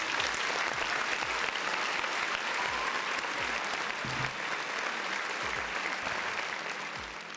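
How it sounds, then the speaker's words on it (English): Sustained clapping from a crowd, dense and even, continuing without a break before fading slightly at the end. "another round of applause for the folks in the chat"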